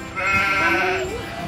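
Goats bleating close by, a long wavering cry that rises and falls, with a second animal's call overlapping near the end.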